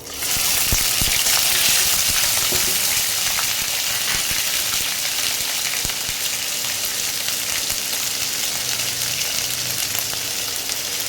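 Ginger paste frying in a pan, giving a loud, steady, close sizzle that hisses on without a break, with no talking.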